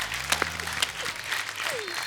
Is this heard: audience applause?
yes